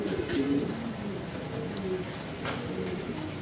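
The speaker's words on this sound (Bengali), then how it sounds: "নতুন কবুতর" Several young pigeons coo steadily at a Bangladeshi pigeon farm, their low, overlapping calls continuing throughout at moderate distance with faint background noise.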